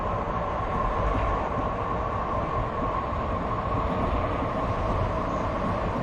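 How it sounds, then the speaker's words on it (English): A Bombardier Flexi Swift train in a train simulator game runs with a steady, continuous rumble and rolling rail noise, even in loudness throughout, with no talk. "I think that's the Flexi Swift. That's the Flexi Swift. This is the Bombardier unit."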